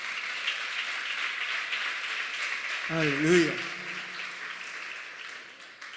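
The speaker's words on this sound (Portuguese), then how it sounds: "Dá uma aplauso forte ao Senhor" Congregation applauding in church during a Portuguese-language service, a continuous mid-level clapping bed running throughout while a voice calls out briefly over it in the middle.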